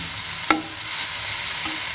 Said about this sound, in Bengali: আর একটু ভাজা ভাজা হয়ে যাক